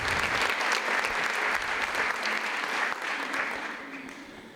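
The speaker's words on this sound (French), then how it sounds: "on peut l'applaudir bien fort." An audience applauds at a beauty pageant evening, a full burst of clapping that holds steady and then gradually thins and fades toward the end.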